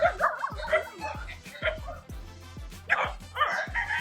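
Several dogs bark repeatedly at close range on a farm, sharp overlapping barks in quick succession, while people talk over them.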